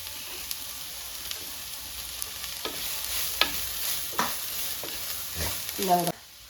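Chopped onions fry in a pan for chicken curry, a steady soft sizzle with scraping spoon strokes stirring them at irregular intervals, close and moderately loud.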